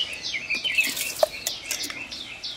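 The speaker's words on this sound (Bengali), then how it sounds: "আর পাখিগুলো কি সুন্দর ডাকছে।" Birds singing in a garden in the morning at the turn from winter to summer, with faint scattered chirps and tweets over a soft hiss of background noise.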